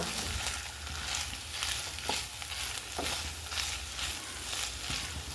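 Mashed potato masala is stirred in a hot pan, giving a steady close sizzle and frying hiss with faint soft scrapes of the spoon recurring every second or so.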